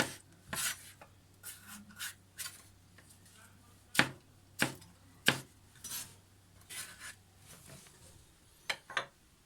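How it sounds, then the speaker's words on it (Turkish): Irregular knife chops on a cutting board as Charleston peppers are cut into large pieces, the loud crisp strikes coming in uneven clusters with quiet gaps between. "Şu biberlerimi de iri iri doğruyorum."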